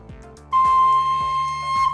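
A recorder sounds a steady, clear high C, held for over a second after a few soft knocks, close and fairly loud with no talk.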